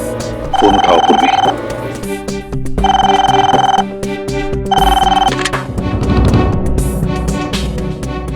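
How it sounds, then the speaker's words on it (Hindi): A telephone rings in a Hindi CID police drama scene. Three loud bursts of ringing are separated by short gaps and play over a background score. "फोन उठाओ"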